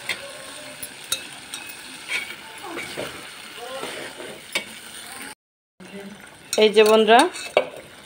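Potatoes with spices are stirred in a pan, with spatula scrapes and knocks against the metal over a faint sizzle. A brief silence follows, then a voice speaks up close.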